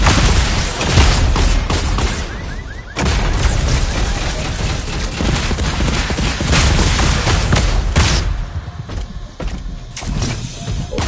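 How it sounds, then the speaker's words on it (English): Missiles and heavy weapons fire in a PS4 shooter game, a loud, dense barrage of bursts and blasts with mechanical clatter, nearly continuous with brief dips between volleys. "Shoot the missiles"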